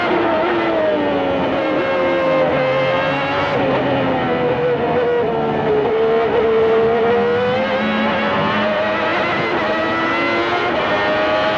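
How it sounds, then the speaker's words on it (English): A high-pitched Ferrari V12 Formula One engine screams continuously and loudly at the 1992 Japanese Grand Prix, its pitch rising and falling as it revs through gears, with no talk. "Listen to that 12-cylinder scream"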